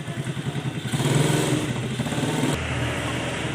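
A small desert dirt bike runs close by with a buzzing, pulsing engine note that swells as it speeds up, then settles into a steadier putter.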